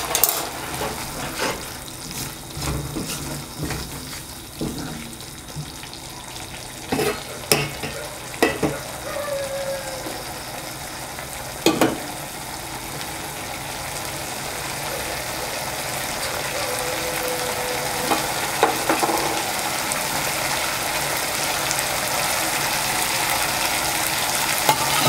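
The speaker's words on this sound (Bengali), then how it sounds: "সর্ষে পোস্ত আমার ভাজা হয়ে গেছে" Mustard and poppy seed paste frying in a pan for a Bengali pabda fish curry, a steady sizzle broken by scraping stirs and clinks that thin out in the first half, then a continuous hiss alone.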